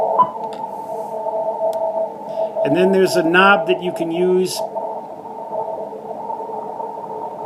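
Steady hum and hiss of interference on CW reception through an ICOM IC-746 Pro radio, continuous throughout beneath someone talking, with a brief burst of warbling tones midway.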